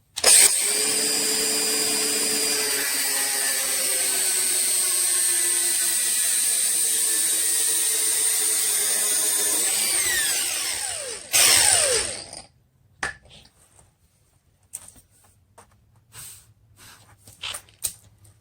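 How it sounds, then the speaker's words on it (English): A power grinder whines loudly and steadily while cutting during a 4L80E transmission swap, then winds down around ten seconds, followed by scattered metallic clanks and handling noises. "So the faster the grinder, the better, but somewhat kind of works."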